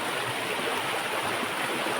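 A river in the Konkan region rushes steadily in a constant, loud broadband wash of flowing water, close by and with no voices.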